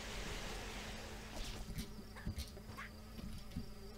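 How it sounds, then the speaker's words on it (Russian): In Red Ball 4, a fly's buzzing drones on close and steady, with small game sounds ticking and bumping over the continuous hum. "сумасшедшая муха, отстань!"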